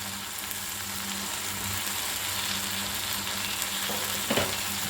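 Mint leaves fry with softened tomatoes in a pan for a chutney, a steady sizzle throughout with a short scrape of stirring near the end; no voices.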